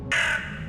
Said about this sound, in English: The sounds of the crow.